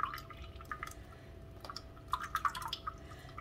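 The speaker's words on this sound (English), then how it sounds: "I'm straining out all the buttermilk" Buttermilk dripping and trickling into a bowl as it is strained from freshly churned butter, quiet scattered drips and small splashes at close range with no talk.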